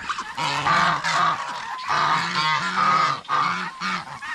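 Farm geese honk loudly and repeatedly close by, a noisy overlapping chorus of nasal calls in irregular bursts with brief pauses between.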